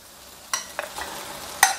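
Chicken breast being stir-fried in panang curry paste: a few sharp spatula scrapes and clanks against the pan over a faint sizzle, close by, with no talking.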